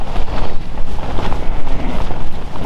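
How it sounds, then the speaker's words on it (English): Storm-force winter wind buffets a Naturehike Cloud Peak 2 tent at a solo camp, a loud, constant roaring rush with gusty swells and no pauses. "Still strong winds at the moment."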